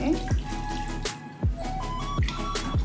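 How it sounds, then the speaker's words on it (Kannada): Water poured a little at a time into a pot of mixed greens for soppu sambar, close watery splashes and gurgles arriving in several short bursts with brief pauses between. "ಸ್ವಲ್ಪ ನೀರು ಹಾಕೋತಾ ಇದ್ದೀನಿ."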